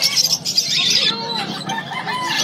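Chickens at a pet market clucking and calling amid a busy, noisy background, with voices mixed in around them.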